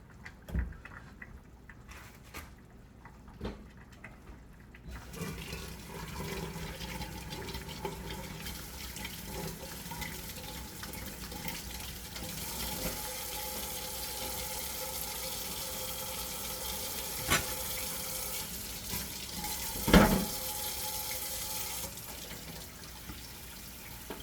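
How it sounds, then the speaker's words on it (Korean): Ingredients for a Korean fish noodle soup are rinsed under a running tap in lodging accommodation, a continuous close rush and splash of water with occasional clunks and a louder knock near the end. "뭐 또 물에 살짝 헹궈주면"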